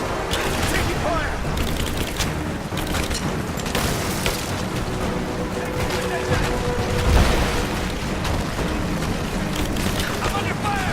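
Gunfire crackles through a dense, sustained battle din in Rise of the Tomb Raider, with a heavier thump partway through and shouting voices mixed into the roar.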